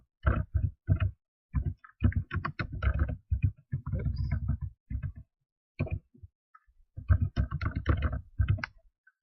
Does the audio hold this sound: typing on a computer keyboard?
yes